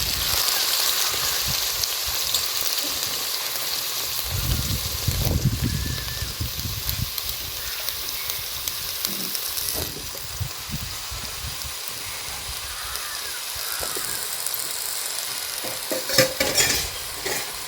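Cut eggplant pieces frying in hot oil, a continuous loud crackling sizzle with bursts of stirring and scraping against the pan, and a few brief clinks of a utensil, with no speech.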